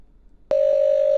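A telephone tone sounds after a brief quiet moment, starting abruptly as a loud, steady, unbroken pitch that holds to the end.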